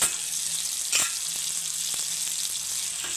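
Tomatoes sautéing in a pan with powdered spices, a steady close sizzle and hiss throughout with a couple of faint stirring knocks.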